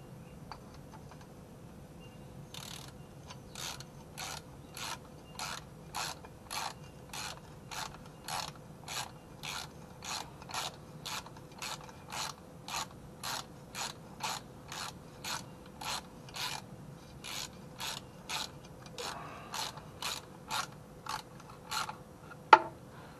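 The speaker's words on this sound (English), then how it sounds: "Socket wrench." A socket wrench ratchets steadily during an oil pan gasket replacement on a 2008 Dodge Avenger, giving a long run of regular, evenly spaced clicking strokes, close and alone.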